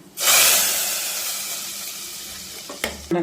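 Hot tempering of oil with mustard seeds and curry leaves hits masoppu saaru with a sudden loud hiss that slowly fades, followed by a couple of brief clanks near the end.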